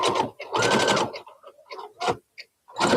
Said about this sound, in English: And then I'm going to sew it down.